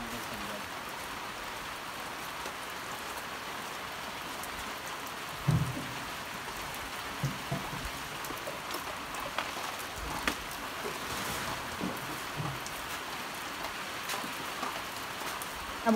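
Steady rain falls at a banana harvest site, a constant hiss of drops with a few faint louder taps, moderately distant and without speech.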